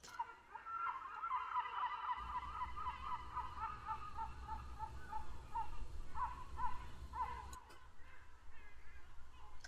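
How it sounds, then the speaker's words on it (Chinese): Seagulls calling in a repeated series of harsh, rhythmic cries over steady low ambience, moderately loud and fairly close, with no talking. "海鸥的声音的话"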